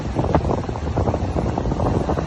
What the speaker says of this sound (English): but I mean, it's clearly windy.